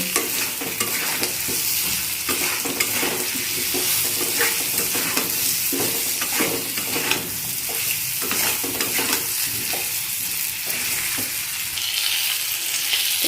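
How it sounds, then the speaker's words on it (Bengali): Pointed gourd stirred and frying in spice paste with salt in a pan for a gourd and prawn curry: a continuous loud, close sizzle broken by repeated scraping and stirring strokes, no one speaking. "এখন আমি পটলগুলো দিয়ে দেবো, তো পটলটা দিয়েও ভালো করে এখন কষিয়ে নেব।"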